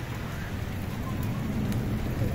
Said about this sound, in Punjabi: ਸ਼ਾਇਦ ਬਾਰਿਸ਼ ਜਿਹੜੀ ਨਾ ਸ਼ੁਰੂ ਹੋ ਗਈ ਹੈ